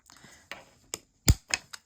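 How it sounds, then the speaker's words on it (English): A corner punch rounds the corners of a folded card-stock easel card, giving several short, sharp clicks and crunches spaced unevenly, close and fairly quiet with no talk. "using either a corner punch or scissors, just round the corners off."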